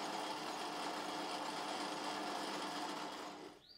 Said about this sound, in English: here I'm using a needle file to draw file the surface just to clean it up